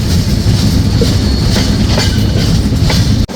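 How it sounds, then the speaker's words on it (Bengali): The Padma Express intercity train on the Rajshahi to Dhaka line runs along the rails with a loud, continuous low rumble and rhythmic wheel clatter, ending in a sudden sharp knock. "ট্রেনটি যখন মাঝগ্রাম থ্রুপাস যাচ্ছিল"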